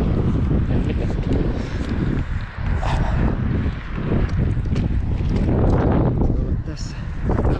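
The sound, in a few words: wind blowing during birch tree climbing removal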